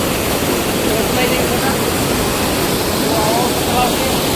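Strong overflow water from the village lake at Chavand rushes in a loud, steady roar, a dense broadband wash filling the whole span without pause and close to the microphone.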